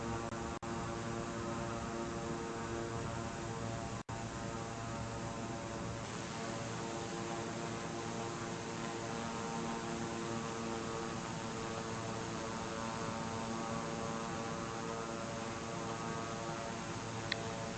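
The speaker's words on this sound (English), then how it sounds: "So this aircraft taxis really fast, and at Lukla, you kind of want to go slow." Steady propeller and turbine drone of a Beechcraft King Air taxiing at Lukla airport in a flight simulation, a continuous even hum with layered engine tones and a couple of faint clicks, no talking.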